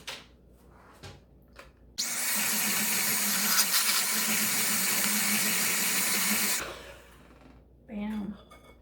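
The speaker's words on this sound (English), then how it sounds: "Now we're going to give that a mix." Electric mixer whirring through maple cookie dough, a loud steady buzz that starts abruptly, runs about four seconds and cuts off, with brief talk and clatter before and after.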